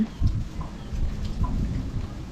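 Soft rolling thunder over faint pattering rain in an outdoor rural setting, a low distant rumble swelling twice, quiet and without talking.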